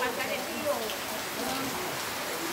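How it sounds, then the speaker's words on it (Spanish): Steady rain hisses softly in the distance near a river, a faint continuous patter with no voices. "se nos llegó la lluvia"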